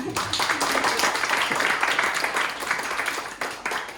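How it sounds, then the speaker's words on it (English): A panel audience at a tech talk gives a brief round of applause, close and fairly loud, a dense clatter of hands lasting a few seconds with a short dip near the end. "Again, a round of applause for her."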